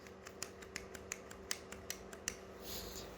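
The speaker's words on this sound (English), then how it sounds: "So I'm gonna click it into place." Small plastic foglight parts for a BMW E90 M3 click and tick into place by hand: a run of about ten quiet, crisp snaps at an uneven pace, close up, with no voice.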